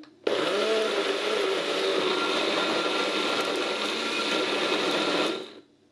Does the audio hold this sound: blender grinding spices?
yes